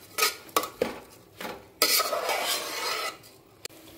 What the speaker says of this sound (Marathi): तांदूळ टाकून घ्यायला आपण व्यवस्थित परतून घेऊ